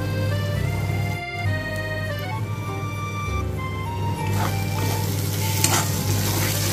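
Potato curry with egg being stirred in a hot frying pan, a steady sizzle under repeated scraping and clattering of the spoon against the pan, close and continuous.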